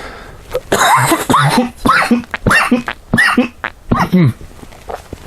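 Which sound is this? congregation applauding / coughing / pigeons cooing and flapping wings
coughing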